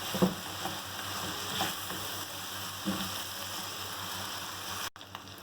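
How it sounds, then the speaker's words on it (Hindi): Minced meat with ginger garlic paste fries in a pan with a steady, soft sizzle and occasional light stirring scrapes, close by and without speech, ending in a sudden cut. "मिक्स करेंगे और उसको बहुत अच्छी तरह से हमें फ्राई करना है।"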